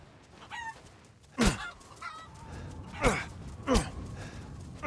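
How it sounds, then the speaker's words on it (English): Chickens in Resident Evil Village honk and squawk, with several sharp, loud calls spaced a second or so apart over low ambient background noise. "I swear there's more than one chicken."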